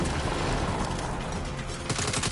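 Turret gunfire in the video game Saints Row, a dense, continuous fusillade of rapid shots that stays steady and moderately loud throughout, with a sharper burst of distinct cracks near the end.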